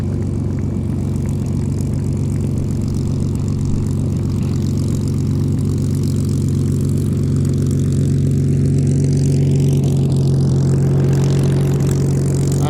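A Spitfire's propeller engine runs with a steady, loud, low throb and a buzzing drone. The tone rises slightly toward the end as the engine note shifts, continuous throughout with no voices.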